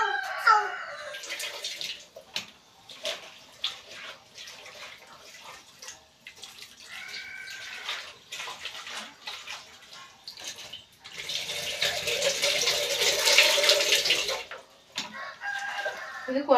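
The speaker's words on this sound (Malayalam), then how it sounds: "അപ്പോൾ ഇത് കഴുകിയിട്ട് കുറച്ച് നേരം വെള്ളത്തിലിട്ട് വെച്ചിരിക്കുക." Chopped papaya pieces are washed and soaked in water, giving a loud burst of running, splashing water in the later part while a rooster crows in the background.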